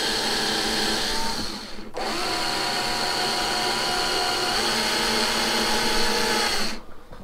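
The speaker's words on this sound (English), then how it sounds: "what we're going to do now is drill the hole." A power drill bores a hole in a plastic bottle cap, its loud, steady whine running almost unbroken except for one brief dip before carrying on and trailing off.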